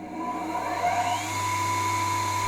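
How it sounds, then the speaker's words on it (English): A sewing machine gives off a continuous, even motor hum with a thin whining tone on top, running steadily and close by with no pauses. "sewing machine."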